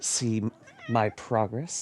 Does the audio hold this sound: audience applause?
no